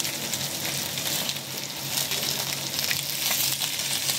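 Stuffed green chilies filled with pork mince fry in a pan, giving a steady, fairly loud sizzling hiss throughout with faint crackles and no voices.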